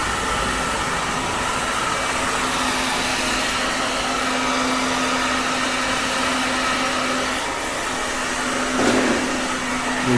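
A hair dryer blows steadily and loudly for the whole stretch with a constant whooshing hum, broken only by a brief shift near the end, with no talking.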